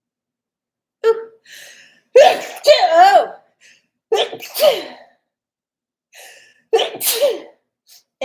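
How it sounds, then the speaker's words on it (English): A person sneezes in a quick series of about four loud, close bursts separated by short pauses, with a small exclamation in between. "the universe sends me into a sneezing fit"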